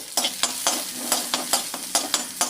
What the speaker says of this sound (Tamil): ஸோ பூண்டு வந்து நல்லா வதங்க ஆரம்பிச்சிருச்சு